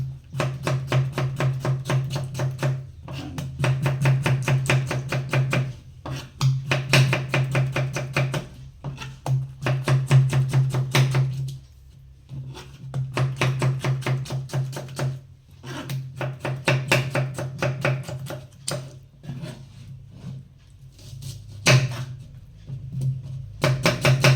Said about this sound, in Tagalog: Ngayon yung panggisa naman yung hiwain natin. Kamatis.